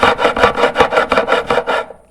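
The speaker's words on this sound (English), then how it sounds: "I want to bevel it slightly to soften it for my hands" Wooden edge of a handmade dulcimer guitar being beveled with a rasp or file: about nine steady, even rasping strokes, close and loud, with no talk, ending in a short fade.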